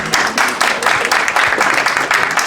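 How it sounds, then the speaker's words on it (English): Conference audience in a large hall applauding steadily, a dense wash of many hands clapping with rhythmic swells, fairly close and continuous throughout. "have a round of applause for that"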